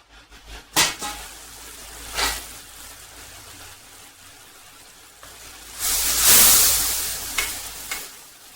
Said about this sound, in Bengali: অলরেডি আমার মশলা থেকে তেল ছেড়ে দিয়েছে। তাতে দুটো কাঁচা মরিচ অ্যাড করলাম।